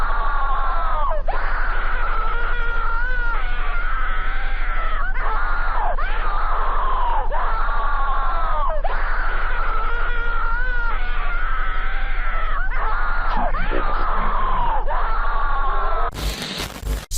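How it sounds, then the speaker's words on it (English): A stock scream sound effect plays as a long, loud, wailing human scream, repeated in agonized bursts for about sixteen seconds before an abrupt cut to a short noisy burst at the end. "I was not aware it was a stock scream sound effect"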